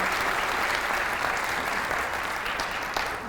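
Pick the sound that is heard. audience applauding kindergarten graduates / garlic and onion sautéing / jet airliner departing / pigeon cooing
audience applauding kindergarten graduates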